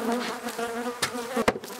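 Honey bees in an opened hive hum in a dense, continuous buzz close up, with a few brief knocks and rustles and no talking.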